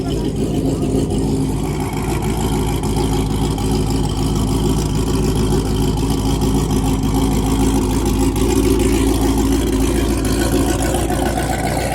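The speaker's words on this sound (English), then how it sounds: "You trying to rev it for me here?" A cammed Corvette C7 Z06 with a Corsa Extreme exhaust runs loud and steady throughout, with a deep, lumpy engine rumble and some revving, while people talk over it.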